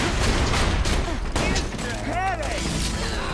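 Rapid, dense gunfire bursts and impacts pound the player in Borderlands 2, loud and continuous, with game effects and chimes layered in the chaotic mix.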